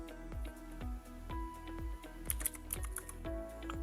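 Typing on a computer keyboard, a run of quick keystrokes clicking close by at an uneven pace over a low steady hum.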